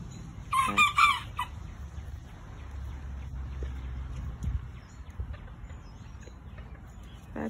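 Chickens cluck and a rooster crows loudly near the start, with the bird calls carrying on more faintly over steady outdoor background noise; the flock is being circled by a Border Collie.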